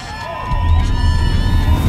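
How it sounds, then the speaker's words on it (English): Crowd at a political party manifesto launch rally cheering and clapping loudly after a brief quieter moment, a broad roar of voices and applause that swells and holds. "Let's give them a round of applause."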